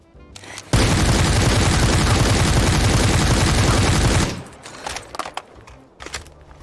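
Rapid automatic gunfire in the video game Super People, compared across compensator, flash suppressor and silencer barrel attachments: a loud, dense burst of about three and a half seconds, then scattered fainter shots and clicks.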